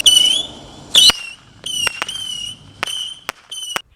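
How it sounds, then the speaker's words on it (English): Consumer fireworks set off outdoors, a series of sharp whistling shrieks and crackling bursts going off in quick succession, loud and close with no talking. "So now that we've detonated our fireworks, we're gonna let it sit and cool."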